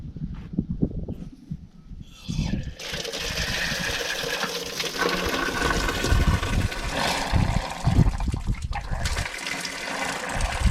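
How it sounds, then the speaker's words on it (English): Spring water pours out inside a water mine, a steady, close rushing and splashing flow that holds for most of the stretch after a few irregular knocks and bumps at the start. "just in case you're wondering where spring water comes out"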